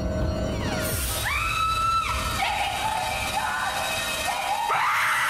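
A person screams in several drawn-out cries, the pitch sweeping upward and holding, loud and close over a constant noisy background.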